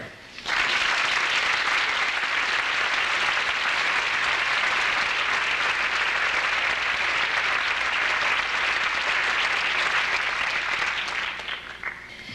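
Sustained audience applause welcoming a professor at a lecture on animal liberation in Madison, rising abruptly, holding dense and steady for about eleven seconds, then tapering off at the end.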